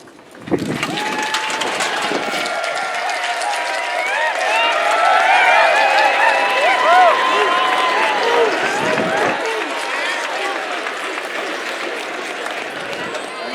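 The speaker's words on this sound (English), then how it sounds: "stand and give a huge round of applause to your families and friends here today" A large crowd at the 2015 West Point graduation ceremony gives sustained applause and cheering for families and friends, a loud, dense roar that holds steady for over ten seconds.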